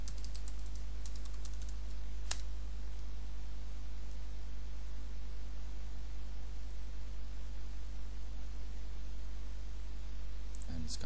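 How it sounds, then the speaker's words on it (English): Typing a password on a computer keyboard, a quick run of faint key clicks early on under a loud steady electrical hum and hiss, then mostly continuous background drone. "I'm gonna type in your password"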